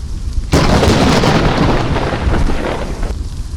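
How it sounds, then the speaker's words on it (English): During a storm, lightning strikes very close and sets off a sudden, deafening thunder crack that roars and rumbles loudly for several seconds before cutting off. "a very strong lightning strike"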